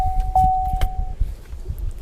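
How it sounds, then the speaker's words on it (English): A 2015 Chevrolet Silverado 1500 4x4 truck being locked, with a short electronic chirp and a few quick clicks and thumps over low outdoor rumble. "sorry about locking my door here"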